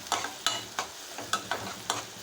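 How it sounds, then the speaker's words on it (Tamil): Sliced onion and green chilies sautéed in oil, heard as a run of sharp, evenly spaced scrapes and taps of a spoon against the pan over a soft sizzle, close by. "இந்த வெங்காயம் ரெண்டு பச்சை மிளகா கீரி கட் பண்ணி போட்டிருக்கேன் அதை நல்லா வதக்கிக்கலாம்"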